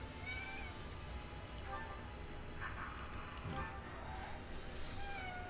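A cat meows several times in Fire Emblem Warriors: Three Hopes, short mid-pitched cries rising over game music and ambient background sound.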